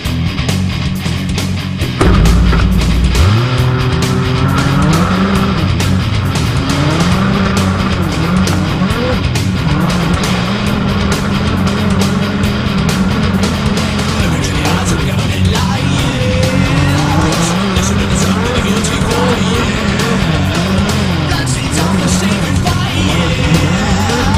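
A Rovan 275A RC car, fitted with a GoPro, drives around with its engine buzzing loudly and steadily for the whole stretch, the pitch rising and falling with throttle, and tires occasionally squealing. No one speaks.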